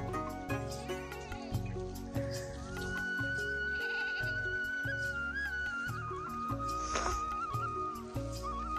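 Goats bleat repeatedly near a farm field, their wavering calls rising over a busy background of other layered sounds for the whole stretch.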